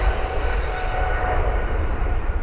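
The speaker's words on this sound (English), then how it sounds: "As you can hear, the plane's taking off." British Airways jet taking off at Heathrow, heard from a nearby footpath: a steady, broad engine roar that stays loud and continuous throughout, with no talking.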